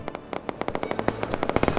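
Rapid bursts of machine gun fire from Operation: Harsh Doorstop, a desert battle game pitting US against Soviet forces; sharp, close, irregular shots that quicken into a dense rattle toward the end.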